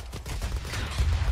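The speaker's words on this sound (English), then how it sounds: "That's a lot of guns downrange." Heavy gunfire in the military video game Arma 3, a dense continuous barrage of overlapping shots rumbling loudly with deep low-end thumps and no clear gaps.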